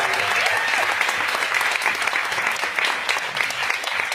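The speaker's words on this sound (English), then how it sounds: "We have a round of applause, please." A wedding crowd breaks into a round of applause for the bride and groom after a best man's speech, dense steady clapping from many hands filling the room loudly and continuously without a break.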